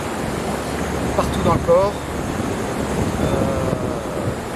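Gusty wind blusters across an outdoor spot near cold water, a loud continuous rush buffeting the microphone while a person talks over it.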